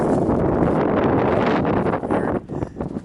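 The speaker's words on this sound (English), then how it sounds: "It's still windy, as you can probably hear" Heavy wind from a February 2013 nor'easter in Leominster roars and buffets the microphone continuously, easing slightly and gusting again toward the end.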